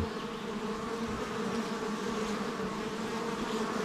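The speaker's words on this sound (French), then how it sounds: "Il y a de l'activité, ça rentre, ça sort, ça rentre, ça sort, ça arrête pas. Et il y a des moments où voilà, grosse arrivée d'abeilles." Honeybees fly in and out of a beehive entrance, a dense continuous buzzing hum from many insects, close and steady throughout with no talk.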